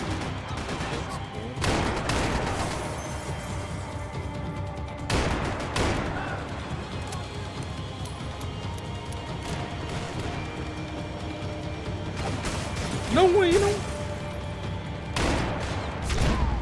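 Revolver gunfire in the video game Max Payne 3: a few sharp, loud shots spaced several seconds apart over a steady game background, with a brief spoken remark in between.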